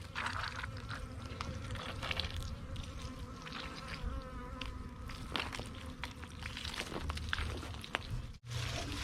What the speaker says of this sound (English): I have bees swarming around here